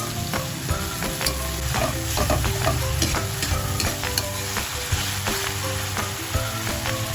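Tomatoes added to garlic and onion in a pan for a chicken dish, frying with a constant loud sizzle while a utensil scrapes and stirs in quick repeated strokes.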